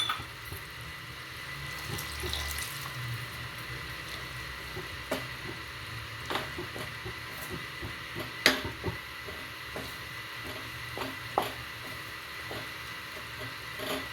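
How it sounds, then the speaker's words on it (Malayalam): Water poured into a blended tomato and cashew puree gravy in a pan, a steady soft liquid rush running throughout with a few small clinks, close and fairly quiet, no talking. "കുറച്ച് വെള്ളം കൂടി ഒഴിച്ചു കൊടുക്കാം"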